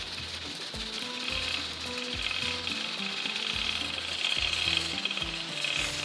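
Cumin seeds roasting in a pan give a steady, fairly quiet sizzle and crackle, with low rhythmic music notes running underneath.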